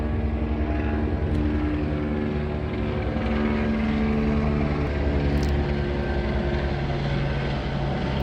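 A helicopter flies over a street, giving a steady, loud rotor and engine drone that holds throughout with little change in level.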